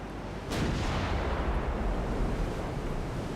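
Heavy 11-inch naval guns fire in a naval battle game, a sudden loud booming blast followed by a long rumbling roar that lingers and rolls on.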